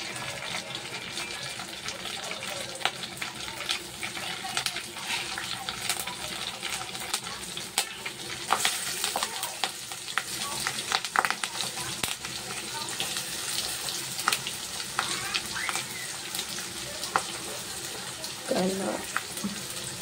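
Cumin, bay leaf and curry leaves sizzling in hot oil for chatpate chole, a steady crackling hiss with small pops and occasional stirring clinks, fairly quiet and continuous throughout.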